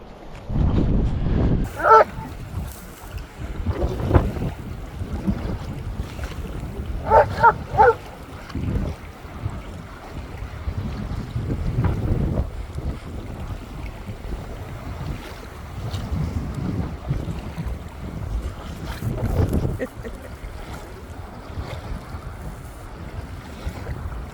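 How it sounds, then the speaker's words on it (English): Heavy wind gusts buffet the microphone on open water during a paddling trip toward Horseshoe Bend, with rushing wind and lapping waves throughout and a few faint tonal beeps. "This wind is blowing hard."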